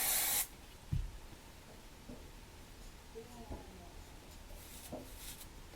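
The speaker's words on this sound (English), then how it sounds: "put hairspray." A short burst of hairspray opens the sequence, a loud broadband hiss lasting about half a second during a salon-style blowout styling session, followed by quieter handling noises and faint brushing.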